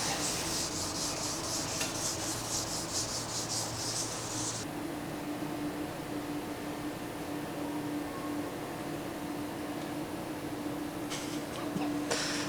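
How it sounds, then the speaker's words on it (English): Steady rasping rub of wet sanding on car parts, continuous and close, with a brighter scratchy texture at the start and again near the end. "So, really this week, me and Nick, we wet sanded a bunch of parts."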